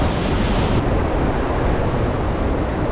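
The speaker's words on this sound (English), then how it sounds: "At least the wind's at my back" Strong wind roars steadily across the microphone at a weir where golden perch are fished, a dense, even rush of buffeting noise lasting throughout with no voices.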